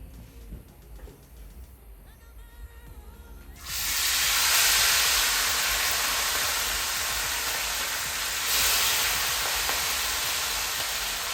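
Quiet rustling gives way to a loud, steady hissing sizzle of red snapper frying in a pot, continuing evenly to the end.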